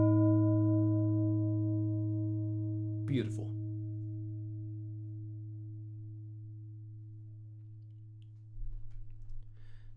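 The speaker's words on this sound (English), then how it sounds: "this dump button, which triggers this bell sound, which is actually a resynthesis of the sound itself, created through a bunch of sine wave oscillators" A resynthesized bell built from sine wave oscillators in Max/MSP rings as steady sustained pure tones that slowly fade across the stretch, interrupted by a brief short utterance near the start and faint low noise at the end.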